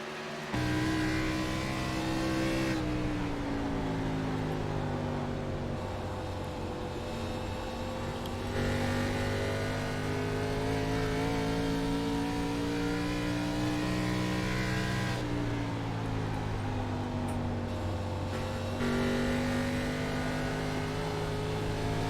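Race cars lap the Rockingham circuit in a league event, with steady loud engine drone that shifts pitch as cars accelerate out of turns and sweep past, continuous with no gaps.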